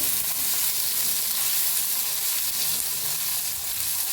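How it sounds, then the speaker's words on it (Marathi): Mustard seeds and asafoetida fry in hot oil while being stirred, giving a dense, even crackling sizzle that holds steady and close throughout, with no voices. "तापले त्याच्यात टाकूया मोहरी."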